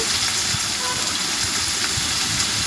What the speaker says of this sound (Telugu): ఆయిల్ వేసుకొని ఫ్రై చేసుకోవాలి